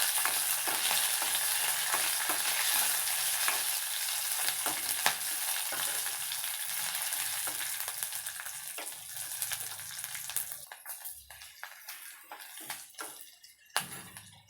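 Green chillies fry in hot oil for a dal tadka, a bright crackling sizzle that stays strong for most of the stretch before thinning into sparser pops and a few spoon scrapes near the end.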